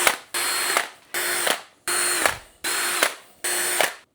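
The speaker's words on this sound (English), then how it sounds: "we're just gonna pre-drill some holes through this bamboo slat so we don't split it." A power drill whirs in five short bursts, pre-drilling holes through a bamboo slat, each spinning up and winding down with brief pauses between, close and clear.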